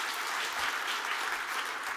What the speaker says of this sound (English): Clap if you think this is Paris.